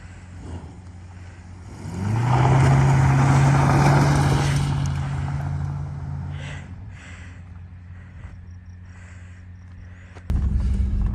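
A 1976 Plymouth Volare, found abandoned after 47 years, pulls away with a steady engine rumble that swells to a loud drive for several seconds, then eases down to a quieter idle-like hum, ending with a sudden thump.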